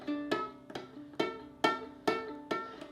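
A string player's fingers tap firmly down onto the fingerboard, six or so distinct close knocks in an uneven rhythm, each ringing briefly with the open string, no talk.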